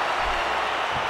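Wrestling arena crowd during a WWE tag team championship match at Night of Champions, a loud, continuous roar of cheering and applause filling the whole short moment.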